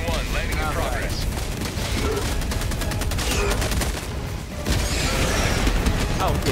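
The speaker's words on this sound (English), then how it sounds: "don't walk too close to that, that's a barrage" An orbital barrage pounds the ground in Helldivers 2, a dense, continuous roll of heavy explosions and rapid gunfire, loud and relentless throughout, with voices talking over the din.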